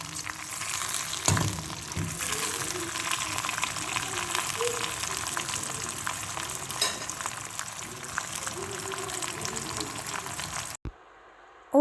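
Hot peppers frying in oil in a pan, a loud steady sizzle and crackle that runs continuously for about eleven seconds before cutting off abruptly.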